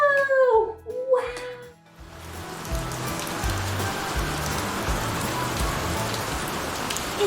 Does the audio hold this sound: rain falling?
yes